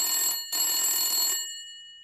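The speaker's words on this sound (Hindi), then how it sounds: "उधर लाइन चाचा चौधरी के टेलीफोन से भी मिल जाती है।" A cartoon telephone bell rings in two loud electric bursts separated by a short gap, the second longer, then cuts off and leaves a fading metallic tone.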